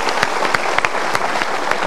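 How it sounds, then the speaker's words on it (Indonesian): A studio audience at the Mario Teguh Golden Ways talk show applauds steadily for just under two seconds, a dense wash of clapping with a few sharper individual claps standing out. "Kita berikan tepuk tangan."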